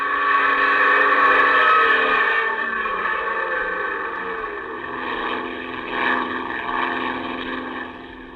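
Aircraft engine roaring as the throttle is pulled open in flight over water, a steady droning propeller hum that swells and dips slightly, then tapers toward the end.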